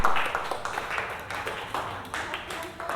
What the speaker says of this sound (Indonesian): Tepuk tangan yuk buat kalian semua.